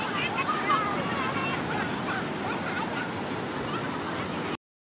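Sea waves rolling onto Astarang beach in Odisha, a steady broadband wash of surf with wind noise buffeting the microphone, continuous and fairly loud until it cuts off near the end.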